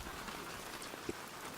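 Rain falls on a rainy night as a steady, even hiss of drops hitting surfaces, with one brief louder drop or tap near the end.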